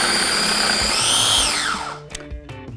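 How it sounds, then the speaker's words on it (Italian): A food processor whirs loudly as it blends precooked beetroot with a pinch of salt, a high motor whine that winds down and stops, followed by a few soft knocks. "In un mixer metto le barbabietole precotte con un pizzico di sale e frullo."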